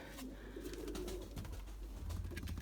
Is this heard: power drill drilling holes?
no